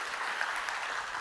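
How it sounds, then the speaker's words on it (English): An audience at a conference in New York claps steadily to welcome a speaker, a dense even patter of many hands heard on its own. "Please come in and give a warm round of applause to Calvin"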